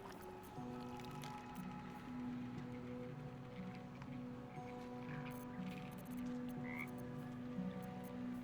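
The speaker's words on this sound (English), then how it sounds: "Frog's entire body shakes. It ribbits erratically as if in pain." A frog in a video game croaks erratically, with uneven rapid ribbits layered over a low, humming ambient drone, the calls fairly faint and irregular in spacing.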